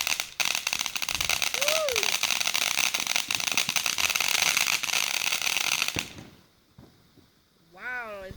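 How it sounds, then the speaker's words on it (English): Fireworks crackle and hiss in a dense, continuous burst for about six seconds, then stop abruptly. A quiet pause and a voice follow. "We see more fireworks up there."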